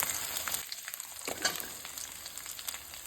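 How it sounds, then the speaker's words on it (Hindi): Carrot pieces frying with half-cooked onion in a pan, a steady close sizzle with brief stirring scrapes and a louder burst partway through. "अब हम इसमें डालेंगे कैरेट।"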